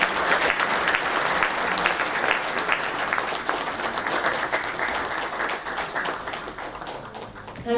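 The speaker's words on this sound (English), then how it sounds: "Let's have a big round of applause," An audience at a conference inauguration ceremony applauds in sustained, fairly distant clapping with crisp individual claps audible, easing slightly toward the end.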